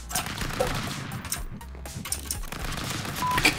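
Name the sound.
gunshots in the video game Stick Fight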